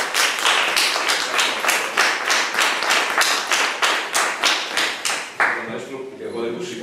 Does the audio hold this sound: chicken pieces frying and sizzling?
no